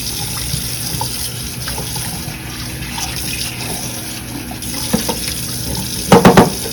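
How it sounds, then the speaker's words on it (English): Tap water running into a sink while a container is rinsed, a steady close splashing flow throughout, ending in a few brief louder sloshes and clunks as the container is handled; no speech. "And rinse my container out. And rinse my sink out."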